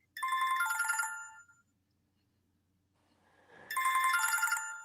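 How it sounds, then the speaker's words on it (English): A phone ringtone sounds for an incoming call, a bright melodic ring in two loud bursts separated by a quiet gap, with no talk over it. "Somebody's calling me."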